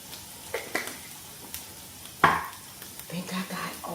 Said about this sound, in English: Gotta start stirring up my cabbage.